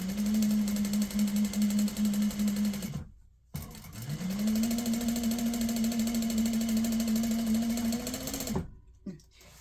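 A sewing machine stitches a quilt block seam in two steady, close runs of motor whir, the first about three seconds and the second about five, separated by a short pause.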